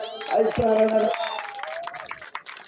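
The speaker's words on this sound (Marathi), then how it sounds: "अशा जोरदार टाळ्या होऊ देत." A crowd claps at a village festival in honour of local achievers, a burst of applause rising beneath a loud amplified voice on the microphone, then thinning out toward the end.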